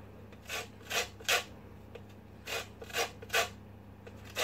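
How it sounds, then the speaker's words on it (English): Lemon zest is grated on a kitchen grater for a lemon drizzle cake. About eight short, dry rasping strokes come in two quick runs, close and crisp over a low steady hum. "I just use my grater and I use this sort of bit on the grater and I just grate my lemon zest in"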